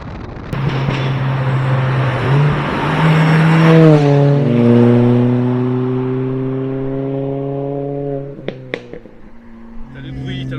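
Mini Cooper GP R53 engine pulls strongly while driving, pitch rising steadily through the rev range before easing off, then a few sharp clicks near the end; loud and close.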